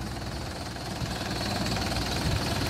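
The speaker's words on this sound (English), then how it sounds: "At the business end, we have a Mercedes OM904 engine to Euro 4" A Mercedes OM904 Euro 4 diesel engine in a 2007 Optare Solo M780SE Slimline bus runs at idle, a steady close-up knocking rumble with a faint whine above it, slightly louder toward the end.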